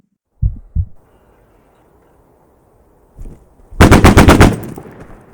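Automatic gunfire in the BattleBit video game: a brief tap of shots, a pause, then a loud sustained burst of rapid rounds with a sharp rhythmic crackle, heard alone.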